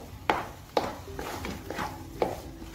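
A wooden spoon stirring and scraping carrot halwa in a kadhai, giving four distinct knocks against the pan with soft shuffling of the thick mixture between them.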